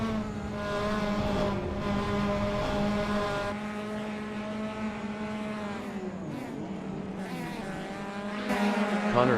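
Race cars circle Brands Hatch GP in a sim racing game, engines droning and revving as they pass, with pitch sweeping down through a gear change midway and rising again, steady and fairly loud throughout.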